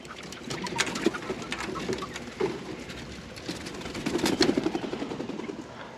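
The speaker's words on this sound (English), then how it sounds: "See how many birds came out of that thing?" Pigeons or doves flutter out of a pen in a burst of wingbeats, soft flapping and rustling continuing with some cooing, fairly close, no talking.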